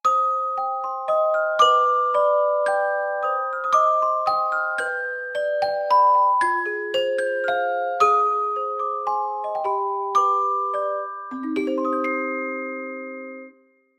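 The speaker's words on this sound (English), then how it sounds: "Maybe we can try the celesta." A virtual orchestra celesta plays a gentle, flowing melody of bright bell-like notes, chords layered with a soft decay, alone and steady until a final held chord fades.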